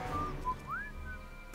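A character in Back to the Future: The Game, set in 1931, whistles a short tune of a few clear, gliding notes, faint over a quiet background.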